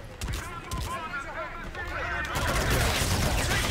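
Dense, sustained gunfire from the Call of Duty: Infinite Warfare campaign, a continuous rattle of shots that grows slightly louder toward the end, mixed with game voices and battle noise.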